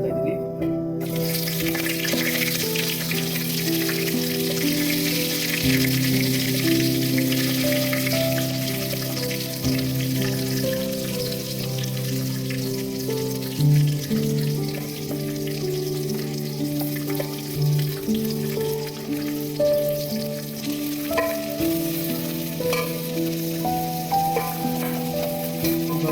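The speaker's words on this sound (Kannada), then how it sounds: "ಈರುಳ್ಳಿ ಬ್ರೌನ್ ಕಲರ್ ಆಗೋ ತನಕ ಫ್ರೈ ಮಾಡ್ತೀನಿ" Onions fry in hot oil for chicken biryani, a steady crackling sizzle running continuously beneath prominent background music.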